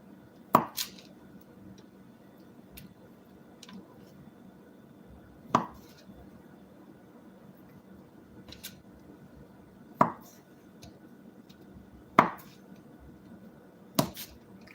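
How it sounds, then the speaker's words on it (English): A knife chops kielbasa into little chunks on a board, a handful of crisp, isolated thunks spaced several seconds apart over a low steady room hum. "cut all of my kielbasa into little chunks"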